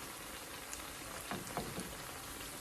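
Potato smileys fry in oil, a faint, steady bubbling hiss with a few soft pops in the middle, distant-sounding and even throughout.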